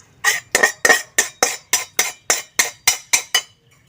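Roasted amrutham powder being moved into another vessel, heard as about a dozen evenly spaced metallic scraping clinks of a spoon against a pot, crisp and close, with no voices.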